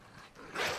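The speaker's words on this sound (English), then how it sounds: "There's like a dog here." A dog in the Fortnite video game gives a short, loud yelp or bark near the end of a brief moment of quiet in-game ambience.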